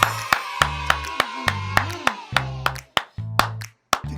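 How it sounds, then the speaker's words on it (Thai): Sharp hand claps strike in a steady rhythm over a bright musical jingle at the opening of a Thai talk-show episode, with about a dozen crisp claps spaced roughly every third of a second. "ปรบมือ"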